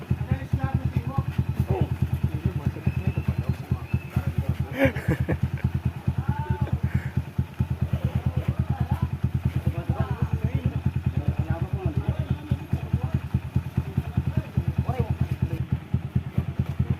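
A motorcycle engine running at close range, a loud, rapid low-pitched putter that continues throughout, with people talking over it intermittently.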